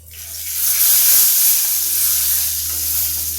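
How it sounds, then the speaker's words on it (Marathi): Vegetables sautéing in a pan for a Maharashtrian thali, a loud, close, continuous sizzle with soft stirring scrapes that swells and eases slightly, no voices. "आता एकदा याला थोडंसं आपण परतून घेऊया"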